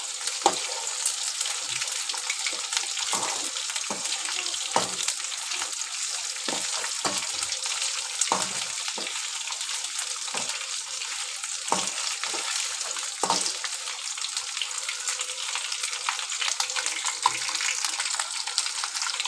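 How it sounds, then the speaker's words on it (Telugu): Steady, close crackling sizzle of bommidala fish frying in a pan, with frequent soft scraping and clinking of a utensil stirring, no voices. "ఎర్రగా వచ్చేలాగా ఫ్రై చేసుకోవాలి"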